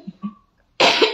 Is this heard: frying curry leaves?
no